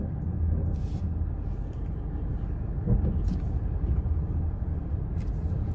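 Busy road traffic rumbles near a roundabout in Dubai, a steady low drone of many cars and heavier vehicles with a few brief hisses of air brakes.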